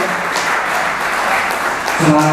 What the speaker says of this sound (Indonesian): sekali lagi tepuk tangan dong untuk Bung Hadi Mario